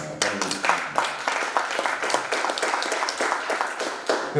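An audience at a Korean National Assembly seminar on the Ukraine war claps in steady, close, evenly dense applause that holds at a fairly constant level throughout, with no speech over it.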